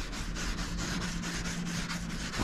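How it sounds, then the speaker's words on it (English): A clay bar is rubbed over the black paint of a Honda Civic FN2 Type R, producing quiet, close, scratchy rubbing strokes in a steady back-and-forth rhythm with no talking. "that noise, like scratchy noise, is basically the clay bar pulling out all the crap"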